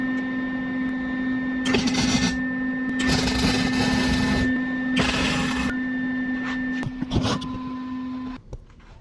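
A welder works on an electric fan kit bracket for a B5 Audi S4. Several crackling bursts of a few seconds each sit over a steady electrical hum, heard from some distance, with no talking.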